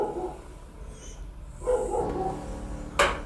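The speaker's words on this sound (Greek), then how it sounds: "Πάντως τα σκυλιά δεν έχουν σταματήσει λεπτό από την ώρα που μπήκαμε μέσα στο σπίτι" A dog barks and yelps a few times at moderate distance, with a sharp bark near the end over low background noise.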